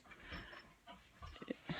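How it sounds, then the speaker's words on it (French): A dog whines and pants in short bursts close by, with several higher whimpers toward the end, heard indoors during a crochet session. "Mon chien s'énerve."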